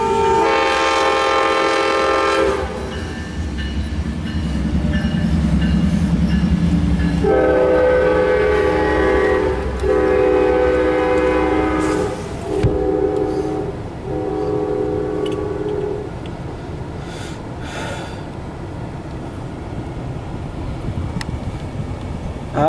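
An Amtrak train sounds its loud horn in long blasts, then rumbles past up close heading westbound, with wheels clattering and rolling steadily as the noise gradually fades.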